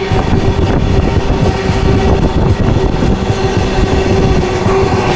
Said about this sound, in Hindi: मालगाड़ी हमें ओवरटेक मार के जा रही है